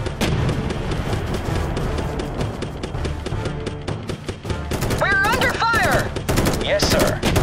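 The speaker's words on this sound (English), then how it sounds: "Opening fire." Dense, continuous gunfire and explosions from the video game Hell of Men: Blood Brothers, loud and chaotic throughout, with overlapping shots, booms and whistling sounds near the end.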